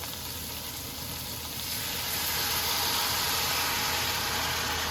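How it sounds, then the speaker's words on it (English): Half a cup of beef broth is poured into a hot pan of pepper steak, making a loud and steady close sizzle that swells partway through and holds. "I throw half cup of beef broth"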